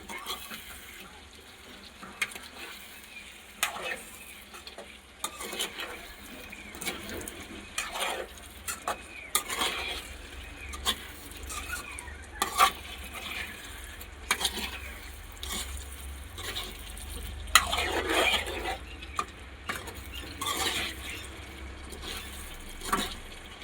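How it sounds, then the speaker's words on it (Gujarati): Potatoes being stirred into gravy in a pan for a Gujarati bhungala bateta dish, with repeated scraping strokes of a spoon against metal at an uneven rhythm over a faint steady sizzle, close and moderately quiet. "સરખાઈથી આપણે ગ્રેવીમાં મિક્સ કરી નાખવાના બટેટા."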